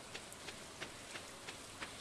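Steady rain in the Stardew Valley video game: a constant soft hiss of falling rain, with faint regular ticking clicks over it.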